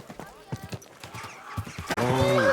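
Several hoof clops in quick bursts, then a horse whinnies loudly near the end, with a voice talking briefly over the hoofbeats, in the video game Kingdom Come: Deliverance II.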